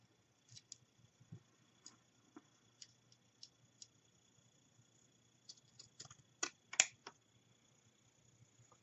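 Scissors snip the edges of a paper page for a Victorian teapot album, a quiet series of sparse, crisp clicks and cuts with a cluster of sharper snips near the end.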